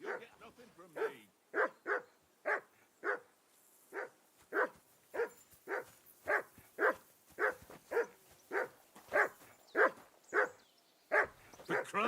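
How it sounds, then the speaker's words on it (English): A dog in the video game Kingdom Come: Deliverance II barks in a steady run of sharp, evenly spaced barks, about twenty in a row, fairly close and clear. "Call off that damn dog before he wolfs down the last of our mates."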